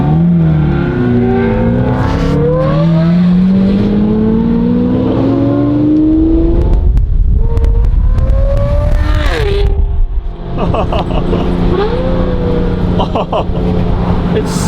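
An Aston Martin DBS V12 revs hard through its exhaust, the engine note climbing and falling in rising sweeps with loud, close throaty roars and a few sharp bursts.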